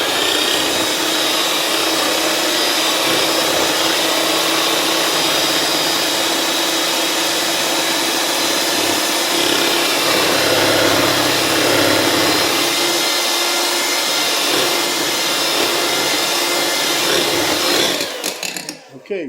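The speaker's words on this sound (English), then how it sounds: "Okay, we're going to beat this till frothy." Electric egg beater whipping eggs until frothy for a zucchini cake, a loud steady motor whir running without pause for most of the stretch before cutting off near the end.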